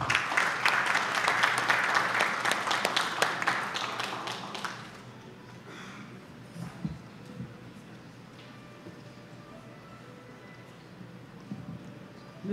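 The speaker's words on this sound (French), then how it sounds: "Sous vos applaudissements." Audience applause at a formal ceremony in Haiti greeting an official, loud dense clapping for about five seconds that then stops abruptly, leaving a quiet room with faint scattered noises.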